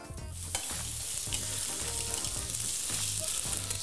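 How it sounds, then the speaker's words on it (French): Onions sizzle loudly after being tossed into a hot pan for a beef stir-fry, a steady frying hiss over rhythmic low thumps of stirring and pan movement, with no talking. "On va commencer en balançant les oignons."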